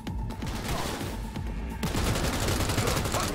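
Rapid assault rifle bursts in Cyberpunk 2077, loud and continuous with dense repeated shots and a short break before firing resumes even harder.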